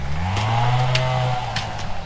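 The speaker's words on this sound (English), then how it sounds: "Never-ending chainsaw." Chainsaw running nearby, its engine holding a steady droning whine that rises slightly in pitch and then eases, with a few faint knocks alongside.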